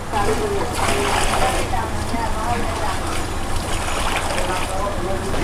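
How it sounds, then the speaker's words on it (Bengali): Water churns and bubbles steadily in a large biryani pot holding 30 kg of rice, a continuous rolling hiss at close range, with people talking over it. "সেই কাঁচা পানিটা দেখেন কিভাবে ফুটতেছে"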